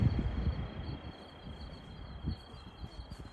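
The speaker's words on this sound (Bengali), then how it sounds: "ঝিঝি পোকার ডাক আমরা শুনছি।" Crickets and other insects calling at dusk among trees in Tanuma, southern Saudi Arabia: a faint, steady high-pitched drone runs throughout, over soft low rustles and thumps, with no talking.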